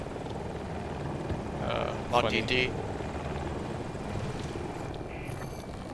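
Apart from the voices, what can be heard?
helicopter flying in the video game Battlefield 2042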